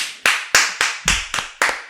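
Seven sharp, widely spaced hand claps ring out close and loud at a comedy show, a slow uneven rhythm with silence between each clap and no talking.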